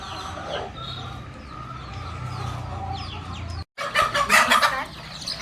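Free-range desi hens cluck and chatter nearby, with a burst of louder, rapid clucking near the end; no one speaks.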